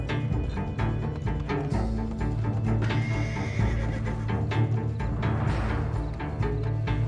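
A horse in Red Dead Online gives a loud, close whinny, with repeated neighs and snorts over a steady low rumble, plus a few light hoof clops.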